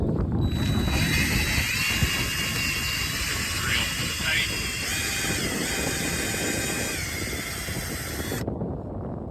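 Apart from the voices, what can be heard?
drilling a hole in a maple tree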